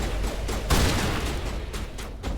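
Gunfire in the video game Mass Effect, dense and continuous with a heavy burst partway through, loud and close with steady background rumble.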